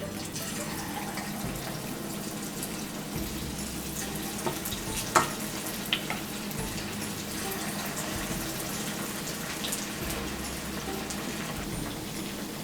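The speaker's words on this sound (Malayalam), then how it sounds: "ഞാനിപ്പോൾ ഫ്രൈ ചെയ്യാൻ പോവാണ്" Marinated chicken frying in hot oil in a frying pan gives a continuous, moderately loud sizzling hiss with a few brief crackles and clinks midway, close by and with no voices.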